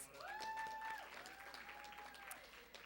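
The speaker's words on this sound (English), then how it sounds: "A round of applause, please." Applause at an anniversary celebration, quiet and distant clapping under a sustained tone that glides upward and holds, with a lower tone coming in later, all faint overall.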